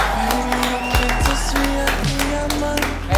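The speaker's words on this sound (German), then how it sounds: "Macht mal einen richtig fetten Applaus für Lars Eidinger." A large talk-show studio audience of about a thousand claps for actor Lars Eidinger, the applause running beneath loud, rhythmic music.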